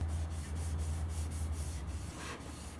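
A cloth wipes polyurethane finish onto poplar wood in repeated rhythmic strokes, a soft close rubbing swish over a low background hum, with no speech.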